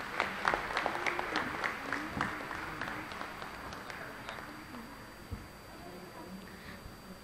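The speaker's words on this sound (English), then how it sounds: "Please give a big round of applause." Applause from an audience at a felicitation ceremony, a burst of clapping that starts strong and gradually thins out and fades, with some voices murmuring underneath.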